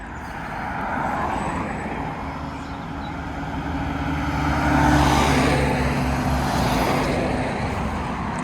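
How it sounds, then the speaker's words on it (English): Steady traffic noise from cars traveling down a road in the UK, a continuous rumble that swells as a vehicle passes close by around the middle before easing off again. "the road, or the cars traveling down the road."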